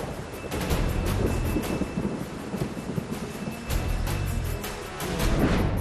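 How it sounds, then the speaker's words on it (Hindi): Heavy rain pours during monsoon flooding while thunder rumbles, a dense steady roar of downpour with deep low booms swelling throughout. "जब आती है बारिश"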